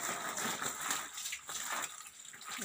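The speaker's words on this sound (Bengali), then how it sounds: "দেখো জল ভরছে।" Water from a pump-fed supply rushes into a container for washing temples at a home shrine, a continuous gushing, splashing flow heard close and fairly steady throughout.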